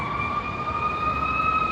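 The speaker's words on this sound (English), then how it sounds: "Some sirens. Some rescue vehicles coming this way." Rescue vehicle sirens in downtown Las Vegas near Fremont Street, a steady wailing tone carrying over city street noise, continuous and moderately close, with no talk.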